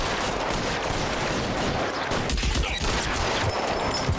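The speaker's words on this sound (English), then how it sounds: "A bunch of guys with snub-nosed pistols shooting wildly." Rapid pistol gunfire from a shootout in the video game LA Noire, dense overlapping shots crackling continuously at close range with no pause.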